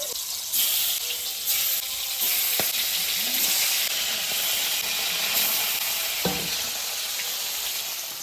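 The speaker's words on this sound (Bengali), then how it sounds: "এবার শোল মাছের জন্য তেল দিয়ে দিলাম এবার হলুদটা লবণটা মাখাই আজকে শোল মাছের মাথা মাখাবে এবার মাথাটা আগে দিই" A snakehead fish head coated in turmeric and salt fries in hot oil, giving a close, continuous sizzle with a few sharp clinks and stirring sounds in the pan and no talking.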